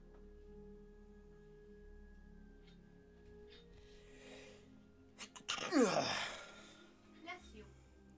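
A single sharp sneeze bursts out midway through a quiet livestream, close and loud against a faint tonal background hum, followed by a softer exhale.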